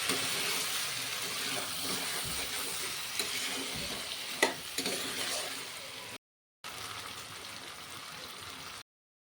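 Chicken frying and cooking under a lid in a village-style chicken kosha makes a continuous moderate sizzle with scattered stirring scrapes and a brief sharp clink, then a short gap before the sizzle resumes.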